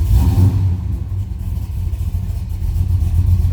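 A 1969 Chevrolet Chevelle 2-door hardtop's V8 rumbles close by, with a deep throbbing idle that swells in short revs at the start and end.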